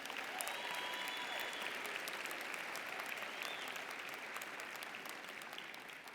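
At the UIC Jane Addams College of Social Work 2017 spring commencement, a large audience gives the commencement speaker a sustained round of applause that sounds faint and distant and tapers slightly toward the end.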